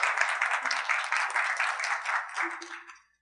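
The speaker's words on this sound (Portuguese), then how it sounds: "Salva de palmas para os nossos integrantes da orquestra." An audience at a computer graphics seminar claps for orchestra members, a dense burst of applause that holds for a few seconds before fading out, with a brief murmur of voices underneath.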